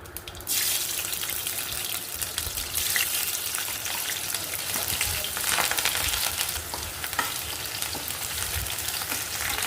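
Onions and curry leaves frying in two tablespoons of hot oil with cumin and mustard seeds for a tomato curry, a loud steady hiss and crackle of sizzling that starts abruptly and continues throughout.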